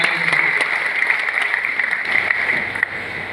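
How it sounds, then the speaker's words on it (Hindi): Audience applause at a public speech, a steady wash of clapping from a crowd that holds at an even level throughout with no talk over it. "एक बार जोरदार तालियां हमारे आपा के।"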